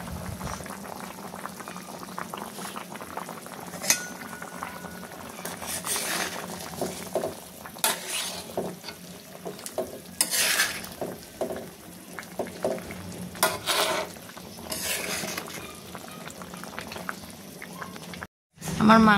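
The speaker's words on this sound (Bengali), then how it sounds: "পানি দিয়ে এরপর মাংসটাকে আমি ভালো করে রান্না করে নিব" Beef simmering in water in a pot for a home-style garlic beef bhuna, bubbling steadily and close throughout, with a few faint clatters and a brief quiet gap near the end.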